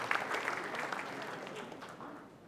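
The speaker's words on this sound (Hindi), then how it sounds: "एक बार जोरदार तालियां आज के दीप प्रज्वलन के कार्यक्रम के लिए।" Audience applause at a Rajasthan Diwas lamp lighting ceremony, a steady sustained round of clapping from a crowd that holds throughout and tapers slightly at the end.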